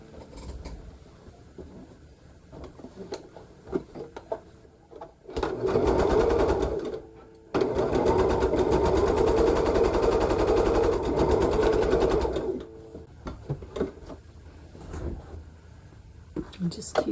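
A sewing machine stitching together two pieces of a Christmas sampler quilt block, a loud steady whirring run, a brief pause, then a longer run, with soft talk and handling sounds before and after.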